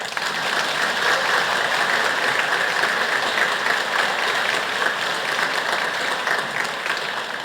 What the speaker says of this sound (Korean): 바쁘신데 오셔서 미사해 주신 신부님께 감사의 박수 한번 쳐드릴까요?